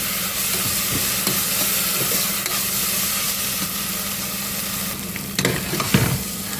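Steady, loud sizzling and hissing from ginger and garlic sautéing in a hot pan, with occasional scraping stirs near the end and no voices.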